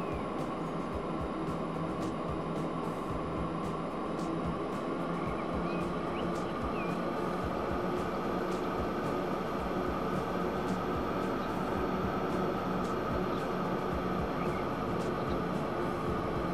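Trains accelerate in the Transport Fever game, a continuous steady rumble with a sustained hum and rail noise at an even level throughout, without speech.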